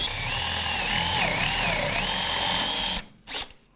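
A Bormax drill bit bores into softwood with a loud, continuous whirring grind for about three seconds. It stops abruptly, then gives one short follow-up burst.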